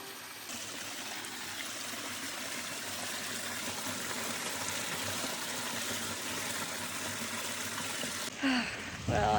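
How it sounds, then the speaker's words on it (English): Steady rushing of a cold mountain stream on a trail, continuous and fairly loud, ending with a brief dunking splash and sloshing of a sun hoodie being soaked in the water. "Well, I just dunked my sun hoodie in that cold mountain water."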